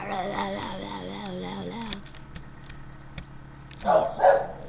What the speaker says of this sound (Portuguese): Meus cachorros começaram a latir.